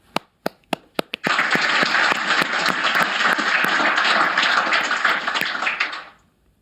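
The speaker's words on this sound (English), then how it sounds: "Big round of applause for Tyrone." A few sharp, separate claps open, then a meetup audience breaks into full, dense applause that holds steady for about five seconds before fading out quickly.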